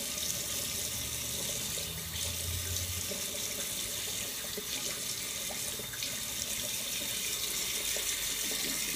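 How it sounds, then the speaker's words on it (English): Cold tap water running steadily into a bathroom sink, a continuous close hiss and splash with small shifts in flow, no talking. "all we're gonna do is run some cold water and just close everything up"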